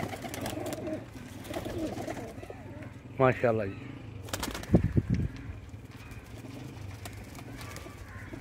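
Pigeons coo near a loft in Lahore in a couple of short throaty bursts midway, with a voice briefly heard and steady background noise throughout.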